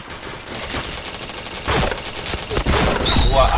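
Rapid bursts of gunfire and headshot hits in a shooter video game, loud and dense, with repeated shots clustering and building in intensity toward the end.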